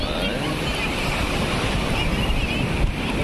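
Ocean surf rolls in steadily at Marina Beach in Chennai, a dense continuous roar of breaking waves with strong wind buffeting the microphone and no speech.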